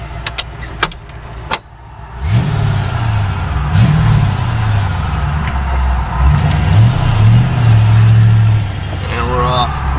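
A 1986 Ford Mustang GT V8 is started and revved from close by. The engine settles into a loud, steady rumble with several rising surges as the car pulls away. A few sharp clicks come before it.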